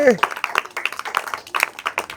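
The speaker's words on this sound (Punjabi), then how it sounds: "ਤਾੜੀਆਂ ਮਾਰੋ ਵੀ ਸਾਰੇ ਜਾਣੇ" Scattered hand claps from a small group at a home birthday celebration for twin siblings, soft and irregular, mixed with voices and singing.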